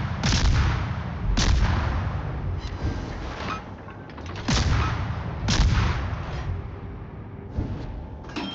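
Ship artillery in the World of Warships video game fires in heavy booming salvos, several loud blasts a second or so apart, each rolling into a rumbling tail under steady battle noise.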